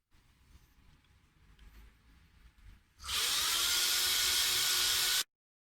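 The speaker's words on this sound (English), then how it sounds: "I've decided to drill holes through the body and to put string ferrules at the back" A power drill bores string-through holes in a guitar body, a loud, steady high whine starting abruptly after a few seconds of quiet handling noise and running for about two seconds before stopping dead.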